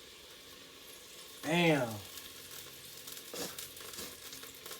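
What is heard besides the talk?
oil sizzling in a hot pan for coconut chicken curry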